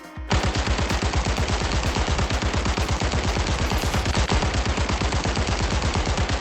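Rapid automatic gunfire in the VR shooter Zero Caliber, a loud, steady, sustained burst of evenly spaced shots that runs nonstop for several seconds, close and dominant.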